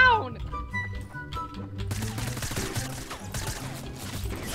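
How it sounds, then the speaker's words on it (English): Gunfire in the Fortnite video game: rapid bursts of shots crackling through a dense mix of game music and effects, with people talking over it. "I believe I'm being shot at"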